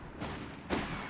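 Gunfire in the real-time strategy game Company of Heroes 3, Afrika Korps against US forces, with Panzer Grenadiers firing on a scout: two faint bursts of shots, the second louder, alone with no talk.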